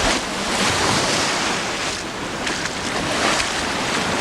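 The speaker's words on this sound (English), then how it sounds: "I'm getting a little washed away with the waves here." Waves wash in on the south side of a flooded lake shore, surging and breaking close to the microphone. Gusting wind buffets the mic over the steady rush of water.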